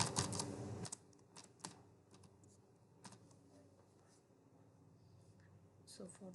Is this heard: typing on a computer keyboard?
yes